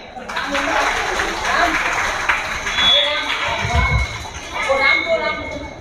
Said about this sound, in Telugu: అక్కయ్య గట్టిగా చప్పట్లు కొట్టాలి బేట